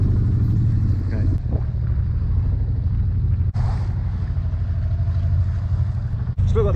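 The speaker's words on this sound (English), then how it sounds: "Still got the engine running." Sailboat's engine running underway on a tidal passage from Brancaster toward the Humber, a steady low rumble with wind buffeting the microphone and a few brief knocks, close and continuous.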